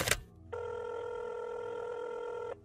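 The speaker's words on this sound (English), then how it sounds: "Then she reached over and grabbed the phone and called Ken." A telephone rings once in a single sustained electronic tone lasting about two seconds, heard close and clear after a brief thump, with no talk over it.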